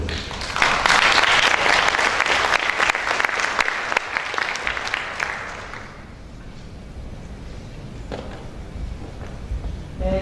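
An audience at an education keynote applauds to welcome the speaker, a loud, dense sustained clapping for about five seconds that then fades into quieter room noise.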